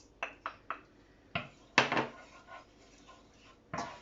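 Diced shallots tipped into a casserole pot for a one-pot chicken casserole, heard as a few light clinks and knocks followed by a louder clatter and scrape of utensil against the pot, then quieter shuffling and one more knock.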